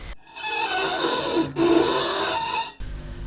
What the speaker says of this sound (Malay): Bunyinya seperti bunyi sesuatu yang tajam sedang diseret sepanjang tingkap nako di surau kecil.